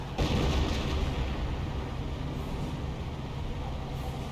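Artillery barrage in the WWII strategy game Company of Heroes, a dense, loud rumble of booming impacts that starts abruptly and rolls on continuously without a break, no voices over it.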